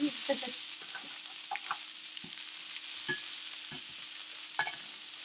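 Chicken, mushrooms and onions cooking in oil in a pan, a soft continuous sizzle with occasional light utensil taps and stirring sounds, close but fairly quiet, no voices.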